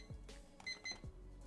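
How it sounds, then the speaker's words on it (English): A timer goes off during a livestreamed stock chart analysis: a couple of quick high electronic beeps ring out faintly over a low background hum, with no speech. "My timer just went off"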